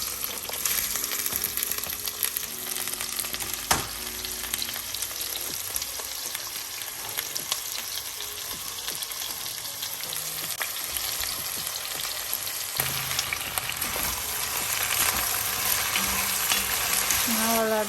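Sliced opo (bottle gourd) frying in a pan, a steady close sizzle with occasional clinks and scrapes of a utensil stirring, a faint voice now and then.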